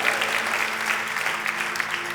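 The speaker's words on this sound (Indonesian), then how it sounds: "tepuk tangannya with passion buat Tuhan kita" Church congregation applauding during a sermon, sustained even clapping from many hands with a faint tonal hum underneath throughout.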